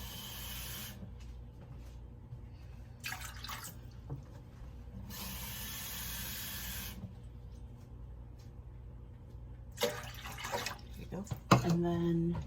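Tap water runs into a cooking pot in bursts, with several short pours separated by quiet gaps and a faint kitchen background. Talk appears near the end.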